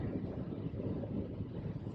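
Steady wind and road roar inside a 2020 Volkswagen ID.3 electric car cruising at 140 km/h, a continuous low rushing drone with no letup.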